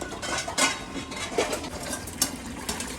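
Clinks and clatters of dishes and cutlery being handled and rinsed, with scattered sharp knocks over a steady background.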